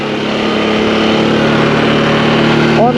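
A Can-Am Outlander 700 ATV engine, recently sunk, runs loud and close with a steady, even drone the whole time.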